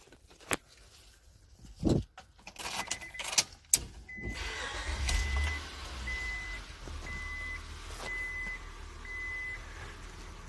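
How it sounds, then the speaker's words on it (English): A 2001 Honda Accord is started after a few clicks and thumps inside the car, the engine catching and settling into a low idle while an evenly spaced chime beeps repeatedly over it. "I'm gonna start the car and see what happens."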